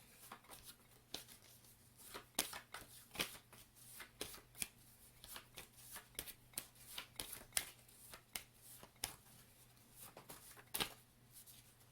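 Tarot cards being shuffled repeatedly, with crisp riffling bursts in an irregular rhythm, close and fairly quiet.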